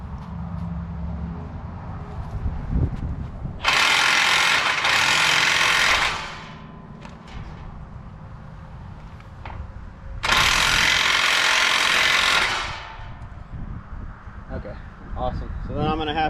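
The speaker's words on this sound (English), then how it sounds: "Tightening the belts up." Ratchet clicking while the belts are tightened on a Kuhn GMD800 mower, two loud bursts of rapid clicking a few seconds each against a background of mechanical noise, with someone talking in between.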